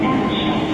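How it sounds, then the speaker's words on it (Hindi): Inside a local train in Cologne, a continuous rumbling hum of the carriage in motion fills a brief moment, loud and steady. "ये जो है ये लोकल ट्रेन है जिसके अंदर हम आए हैं।"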